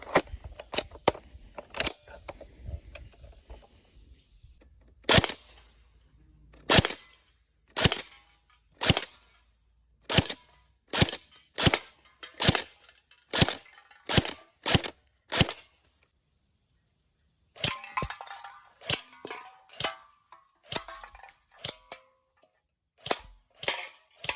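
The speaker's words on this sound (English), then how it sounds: "we've got the P90 here with a fresh battery in it, and we got a 50 round mag right here, and we're gonna go ahead and shoot those cans" A Cybergun FN P90 airsoft gun fires single shots at cans, sharp isolated snaps spaced about a second apart, then a quick cluster of shots near the end, close and crisp with no talking.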